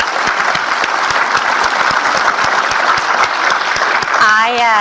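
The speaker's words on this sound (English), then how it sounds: "How about a big round of applause for the two panels?" An audience applauds for two discussion panels at a leadership development session, a dense steady clatter of clapping hands filling the room, with a voice beginning to speak over the tail end.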